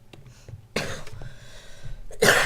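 A person with sore muscles that hurt when coughing coughs in two harsh, breathy bursts spaced about a second and a half apart, the second louder, over faint low background hum.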